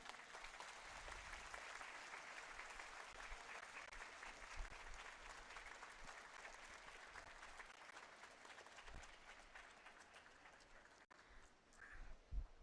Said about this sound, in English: Let's thank them again with a huge round of applause.